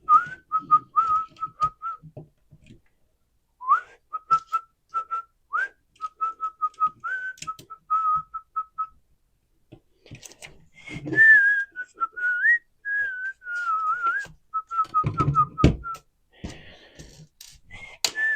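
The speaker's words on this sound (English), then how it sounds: "I do tend to whistle a bit." A person whistles a simple tune while assembling a Lego set, short repeated notes in bursts, close and clear, over light clicks and rustling of plastic pieces.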